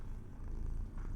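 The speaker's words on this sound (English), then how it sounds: "You can hear him purring." A cat purrs in a sci-fi video game, a steady low rumbling purr that runs close and continuous through the short moment with no speech over it.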